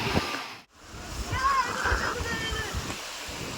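Cold water pours down at a water park ride at Wet n Joy in Lonavla, a steady rushing splash with people talking over it.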